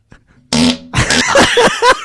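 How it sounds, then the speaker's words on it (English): A loud, close fart bursts out after a brief near-silence and rumbles on with sputtering, pitch-shifting pulses for well over a second. "That's such a good fart."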